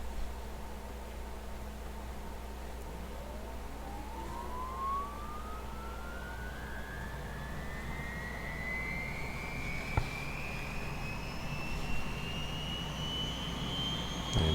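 A UH-1 Huey turbine engine in the DCS World flight simulator spools up, its faint, steadily rising whine climbing in pitch over a constant low hum.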